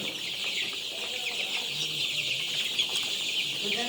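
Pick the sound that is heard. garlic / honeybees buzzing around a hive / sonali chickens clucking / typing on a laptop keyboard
sonali chickens clucking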